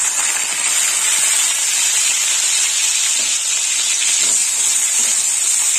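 Chopped green chillies hit hot ghee with whole garam masala, setting off a loud, bright, steady hiss that holds throughout.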